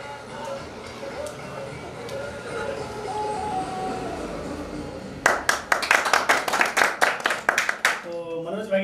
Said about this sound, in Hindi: उनके लिए थोड़ा सा तालियां बजा दो।